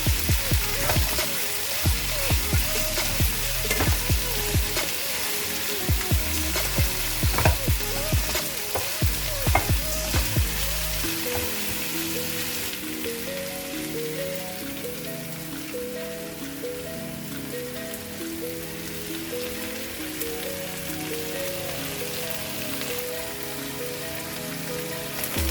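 Chopped okra stir-fries with salt in a pan: loud clattering stirring strokes over a hiss for roughly the first half, then a steadier, softer sizzle, close up with no talk.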